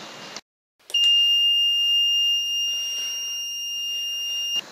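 A steady, piercing electronic buzzer tone from a PIC microcontroller board's test program sounds continuously for several seconds, close and loud, after a brief moment of silence.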